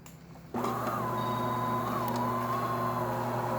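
A DeLonghi espresso machine pulls a test shot after a full tune-up, its pump switching on with a steady buzzing hum and a faint tonal whine that holds evenly to the end.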